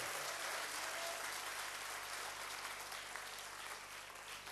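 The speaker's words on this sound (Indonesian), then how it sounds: "Berikan tepuk tangan buat Tuhan." Church congregation applauding together, a steady wash of clapping held at an even level throughout, faint and somewhat distant, with no voices rising above it.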